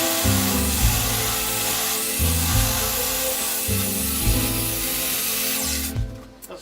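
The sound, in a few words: table saw cutting oak board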